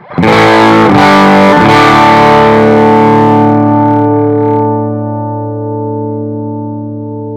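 Electric guitar through a Bluguitar Amp1 clean channel turned up to 10: three strummed chords ring out with shimmering harmonics, then one chord sustains and slowly decays, loud and alone.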